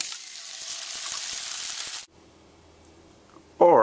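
Egg frying in a pan gives a steady hissing sizzle for about two seconds, then cuts off to near silence before a brief burst of other sound at the end.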